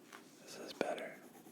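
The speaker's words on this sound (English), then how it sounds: "one of you guys suggested that colored pencils would make a better noise" Soft scratchy strokes of a colored pencil on paper, a steady close-up scribbling with one sharper tap partway through.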